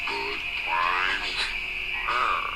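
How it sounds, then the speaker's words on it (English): Frogs croak in a dense, continuous chorus, with overlapping trilling and warbling calls over steady background noise. "frogs."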